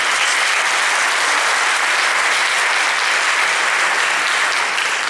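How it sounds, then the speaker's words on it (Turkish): An audience at a training event applauds itself in a steady, dense wash of clapping that holds evenly at full volume throughout. "En son alkış sizlerin kendimizi alkışlayalım diyorum ben."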